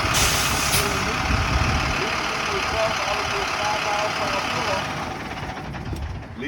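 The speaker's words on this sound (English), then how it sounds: "Leave the truck running, because you got to drive 5 miles per hour." A truck engine idles loudly and steadily during a Class A air brake test, a broad continuous rumble with a hissing air burst near the start, while a person talks over it.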